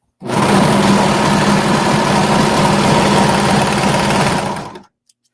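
A sewing machine bastes pockets onto a skirt with a steady, loud, close mechanical hum and rapid stitching rattle for about four and a half seconds before stopping, followed by a couple of faint clicks.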